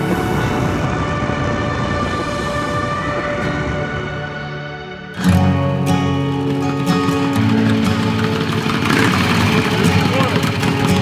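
A Harley-Davidson motorcycle engine idles steadily up close, then revs louder and rumbles on at a higher level, with voices and background music mixed in.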